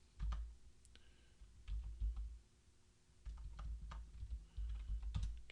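Computer keyboard typing while a stock list is entered, coming in quick bursts of clicky keystrokes with short pauses between, close and fairly quiet, with no voices.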